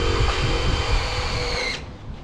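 A power drill whirs steadily at close range while backing out the screws holding a number plate on a Toyota Hilux, then winds down and stops near the end.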